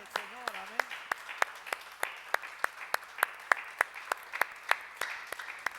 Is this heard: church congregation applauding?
yes